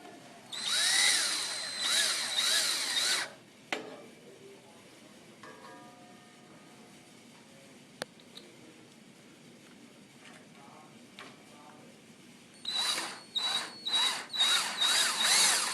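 A power drill drives wood screws into a wooden post of a large display stand, with loud whirring bursts at the start and again near the end, separated by quieter handling and tapping.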